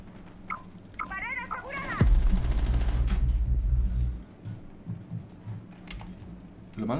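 Rainbow Six Siege gunfire: a sharp, loud burst of shots followed by a couple of seconds of low rumbling, with faint voices and game sounds around it.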